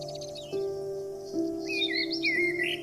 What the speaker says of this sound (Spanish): Escucha a esos pajaritos, el arroyuelo.